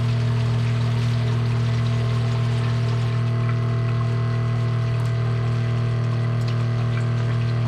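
Water pouring from a hose into a sprayer tank, a steady hiss and gurgle over a constant low hum of the sprayer's agitator, close and continuous.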